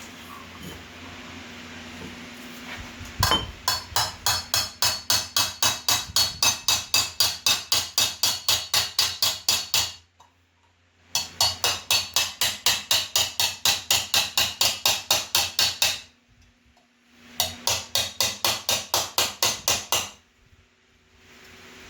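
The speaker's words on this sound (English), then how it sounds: "overlapping my hammer strokes. So I'm kind of planishing as I go." Rapid, evenly spaced metallic hammer blows from the rounded hammer end planishing metal on a stake ring out in long bursts, close and loud, separated by short pauses.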